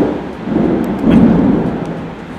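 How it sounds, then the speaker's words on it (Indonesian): A deep thunder rumble rolling through a steady rain hiss, swelling briefly in the middle before easing back, with no one talking. "Tembus banget petir suaranya."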